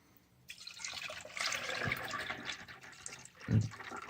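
Engine coolant poured into the cooling system of a 2002 Dodge Intrepid SE, a close steady gurgling pour with splashy liquid texture lasting several seconds, ending in a thump.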